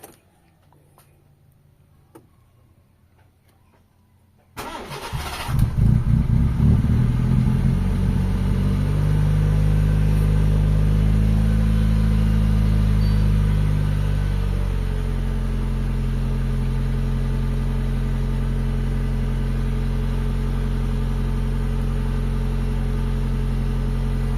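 A Honda Civic with a newly worked-on distributor and an idle that drops sits silent, then the engine cranks and fires. It revs high, then settles into a steady, lower idle, loud and close.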